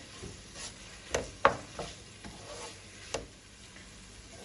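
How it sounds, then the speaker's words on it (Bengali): Onion browning gently on low heat in a pan for a lamb chop bhuna, with a faint steady sizzle broken by a few sharp scrapes and taps of a stirring spoon. "লো হিটের মধ্যে রেখে আমি একটু পেঁয়াজটাকে একটু ভুনা করে নেব।"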